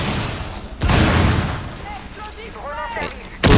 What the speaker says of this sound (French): Est-ce que sa grenade va être fatale?